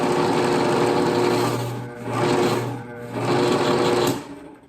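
A small electric motor on a Harbor Freight drill press whirs loudly and steadily, its hum dipping briefly twice as the speed drops, then picking back up.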